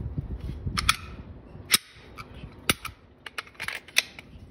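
A Smith & Wesson SD9 pistol is being cleared, with a series of sharp, close metallic clacks and snaps of the slide and action, separated by brief quiet gaps and with no talk.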